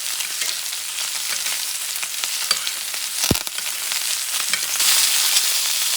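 Steak frying in fat with thyme and aromatics, a dense, loud crackling sizzle that runs steadily throughout, with one brief low thump midway and the hiss swelling brighter near the end; no talking.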